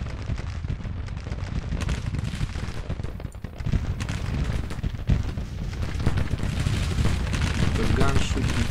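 Dense, continuous musket and artillery fire rumbles through a Grand Tactician Civil War battle, a loud sustained barrage of shots and booms that grows slightly heavier toward the end.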